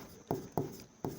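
Pen writing on paper in three short scratchy strokes, each a sharp onset that fades, close and quiet with no talking.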